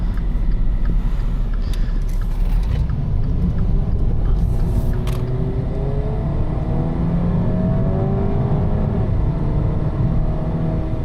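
A Dodge Dart's engine roars steadily at close range, its low rumble rising and falling as it revs throughout.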